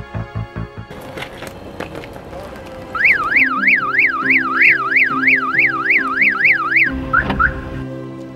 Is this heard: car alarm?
yes